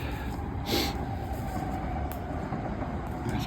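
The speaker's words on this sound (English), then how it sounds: "There's a train going by." A train rumbles past at a steady distance beside a cemetery in Horsham, a continuous low roar with faint wheel noise and no talk.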